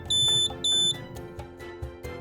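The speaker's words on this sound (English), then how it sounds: "If the system detects no heat to the heater plates, blue and red LEDs will flash and an audible alarm will trigger." Belmont Buddy Lite no-heat audible alarm, two loud piercing high-pitched beeps in quick succession, each lasting about a third of a second, followed by quieter clicks and low background hum.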